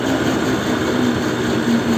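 Moped engine with its original exhaust idles steadily, a continuous low-pitched hum at even volume with no speech.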